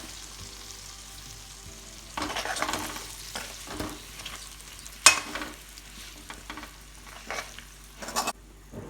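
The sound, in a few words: stirring Indian gooseberries with chili powder in pan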